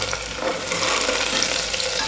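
Whole green chillies and garlic fry in hot oil in a pan, a close, dense sizzle that holds steady with light stirring scrapes, and no one speaks.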